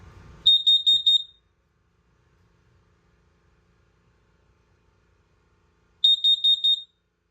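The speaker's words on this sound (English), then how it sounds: "You can test it by holding in this center button. It will do a loud beep." A combined LP and CO2 detector inside a 2024 Forest River Salem Cruise Lite 273QBXLX travel trailer sounds its test alarm, a loud, close burst of rapid high-pitched beeps, a long quiet pause, then a second matching burst.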